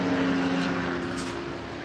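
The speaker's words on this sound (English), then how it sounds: "let this plane go by." An airplane flies overhead, a steady droning roar with a sustained engine tone that slowly fades as it passes, heard alone at moderate distance.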